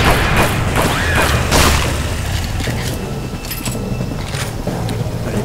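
Two loud, booming shotgun blasts ring out close by in the Aliens vs. Predator video game, each a sharp burst trailing into a dense, rumbling game soundscape, with no talking.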